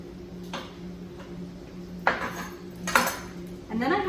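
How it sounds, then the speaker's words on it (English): A knife slices a shallot into rings on a board, a few sharp close taps spaced unevenly over a quiet kitchen background, with a brief voice near the end. "I just want to cut my shallot into rings"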